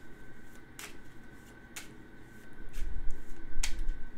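Spirit Island board game cards being shuffled back into a deck: a few quick, crisp riffles and snaps, fairly faint and close, with no talking.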